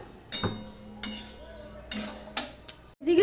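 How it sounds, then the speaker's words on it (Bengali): Heavy stone grinding slab and pestle (shil-nora) set down on a kitchen surface, a few dull knocks and clinks spaced over a few seconds, close and moderately loud. "দেখো শিলনোড়া পেতে নিয়েছি"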